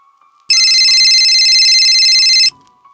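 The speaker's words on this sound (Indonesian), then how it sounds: "Telepon itu kembali berbunyi." A telephone rings loudly in a quiet room, one continuous electronic trill lasting about two seconds before it stops, with faint background noise.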